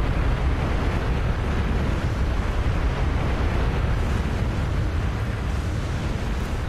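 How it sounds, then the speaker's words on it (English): A loud, continuous wash of broadband noise like surf or wind-driven waves rolling by, steady and close throughout with no distinct breaks and no voices. "I can't think when these waves are going by."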